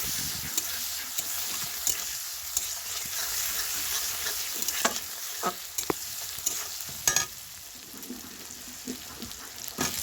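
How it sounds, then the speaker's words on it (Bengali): Onions frying in oil with green chilli and black cumin seeds, a steady close sizzle with scattered scrapes and clicks of a spatula stirring the pan. "এবার একটু পেঁয়াজগুলো লাল লাল ভাজা হয়ে যাক"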